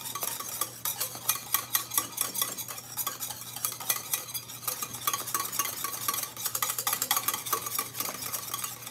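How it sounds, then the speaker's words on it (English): Steady, brisk whisking of vanilla pastry cream in a stainless steel pot, with rapid metallic scraping and clinking repeating throughout, close and fairly loud, no voices. "I like a stainless steel pot, though, for this, but because I need to whisk"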